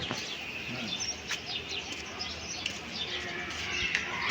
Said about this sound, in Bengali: কবুতর কবুতর আছে এর মধ্যে